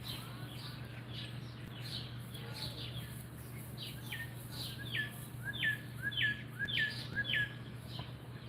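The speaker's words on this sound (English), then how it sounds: "I hear all these birds" Songbirds in a backyard trill and chirp in fast rising series that grow louder toward the end, over a steady low hum, with no talking.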